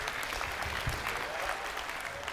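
Steady audience applause fills a seminar hall during a humorous health talk by a doctor, a dense, even patter of many hands holding at one level for a couple of seconds.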